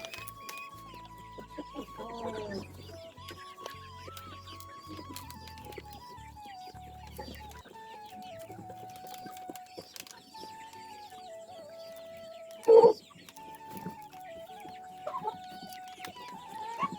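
Chickens cluck repeatedly with occasional rooster calls and a brief flurry of wing flaps in a poultry yard, where a rooster is being dosed with deworming medicine; the clucking runs steadily and fairly close throughout, with no talk.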